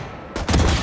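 A sharp burst of gunfire in the video game Valorant, a short fusillade of loud, rapid cracks that begins abruptly and lasts less than half a second.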